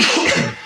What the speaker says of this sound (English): Oh, it was a cough.